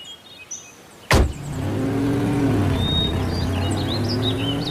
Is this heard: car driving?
yes